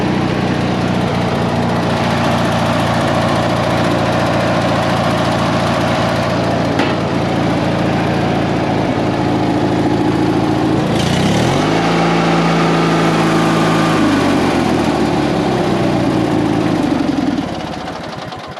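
Yard Machines lawnmower engine, running loud and close with a steady, rough drone, briefly revving and changing pitch near the end before it fades, with no talking over it.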